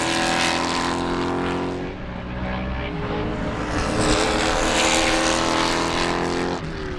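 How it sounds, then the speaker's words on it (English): Loud, continuous roar of GT race cars passing close by at Sebring, rising and shifting in pitch with a brief dip midway, no talking. "So there's the GT cars."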